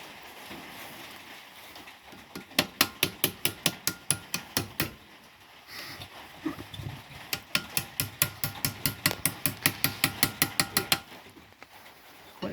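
Rapid metallic hammer taps on a Ford Escort MK1 body panel during restoration, two long bursts of steady evenly spaced strikes separated by a brief pause, close and loud with no talking.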